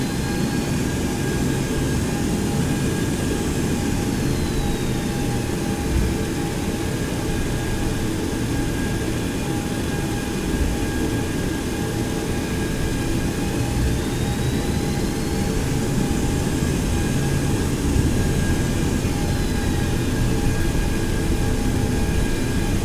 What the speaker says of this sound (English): Okay, we're gonna taxi on out now.